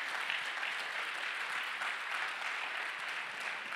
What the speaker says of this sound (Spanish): Dale un fuerte aplauso a Dios en su casa por eso